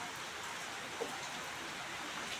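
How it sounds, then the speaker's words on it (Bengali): Heavy monsoon rain pours outside during a stormy day, heard from indoors as a soft, even hiss with no voices. "আর ওই যে প্রচুর বৃষ্টি হচ্ছে, ভেতর থেকে যতটা দেখাতে পারছি দেখাচ্ছি।"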